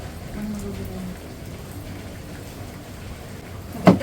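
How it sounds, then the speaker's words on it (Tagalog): Steady rain falls outdoors at a home cooking session, a continuous soft hiss and patter in the background, ending with one sharp knock close by. "Umuulan-ulan po sa ating background."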